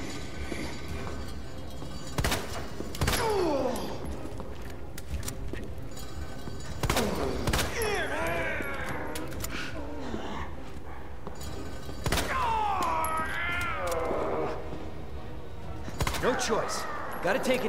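Sharp gunshots ring out in the Resident Evil 2 Remake video game, fired one at a time at a monster's eye, spaced among continuous game noise and a creature's roars while a player talks.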